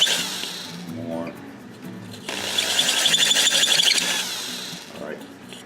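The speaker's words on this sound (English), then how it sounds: "just keep drilling it" A power drill whines and squeals in a close, loud burst midway, with people talking before and around it.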